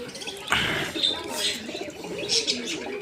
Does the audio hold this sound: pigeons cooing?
yes